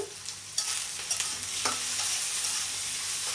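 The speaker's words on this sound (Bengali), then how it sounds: "লবণটা তারা দিলে তাড়াতাড়ি পেঁয়াজটা ভাজা হয়ে যাব" Onions fry with salt in a pan, a loud continuous sizzle punctuated by a few sharp spatula scrapes and stirs near the start, heard up close with no talking.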